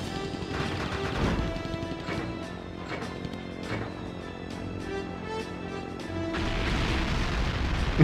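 Bombs bursting in the PS2 flight combat game Pacific Warriors II, a dense run of crashing booms and blasts over a constant drone of aircraft engine and game sounds, with no talk.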